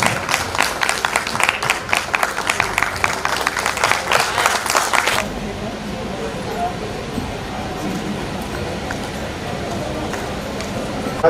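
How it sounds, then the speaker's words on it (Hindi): Applause at a Hindi poets' gathering held during a health parliament in Ayodhya, with dense clapping that fills the first five seconds and then cuts off, leaving quieter room noise and some murmuring. "जोरदार तालियां"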